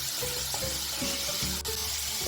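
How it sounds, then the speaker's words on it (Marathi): Potatoes fry in a pan for dhaba-style dum aloo, browning under a steady close sizzle with a low tonal hum beneath and a few soft stirring knocks, no talking. "आलू चांगला ब्राऊन कलर येईपर्यंत आपल्याला बटाटे फ्राय करून घ्यायचे आहेत"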